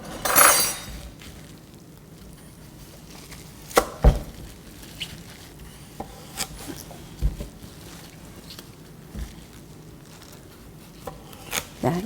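A kitchen knife halves a radish for dongchimi water kimchi, giving a few dull thuds and cuts on a board, spaced out against a low room hum with faint clinks of utensils between them.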